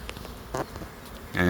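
Honeybee swarm fanning at the entrance of a hive box, with a close buzzing hum rising and falling and a louder burst of buzzing at the end.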